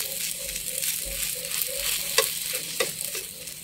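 An oats pancake fries on a griddle, giving a soft, steady sizzle close by with a few light scraping clicks and a faint recurring tone behind it, with no voices.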